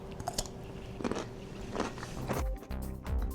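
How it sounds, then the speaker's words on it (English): A crunchy bite into a dollar-store pickle, followed by close, wet chewing sounds that carry on steadily through a few seconds with no talking. "I think the most important things about a pickle is the crunch and then obviously the flavor."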